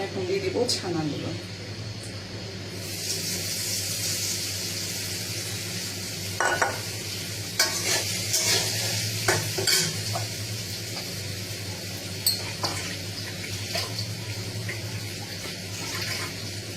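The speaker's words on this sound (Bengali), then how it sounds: "খুব সফট হ্যান্ড এটাকে নাড়তে হবে, নাহলে এটা ভেঙে যাওয়ার উপক্রম হয়ে দাঁড়ায়" Chhana fries in a pan with oil after potatoes have been fried, stirred gently: a continuous sizzle with intermittent spatula scrapes and clicks, fairly close and steady.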